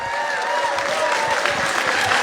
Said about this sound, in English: give one more round of applause to Imam Saif for that beautiful words